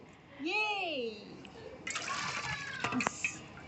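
A voice rings out, then coconut water gushes and splashes from a tender coconut in a loose, spattering stream for a second or two, close by.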